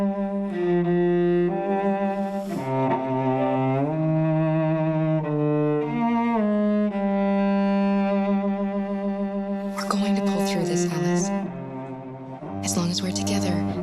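A theme from the Detroit: Become Human soundtrack, a sustained orchestral passage built on a two-syllable motif, with steady held tones, swelling strings and brighter shimmering accents late on.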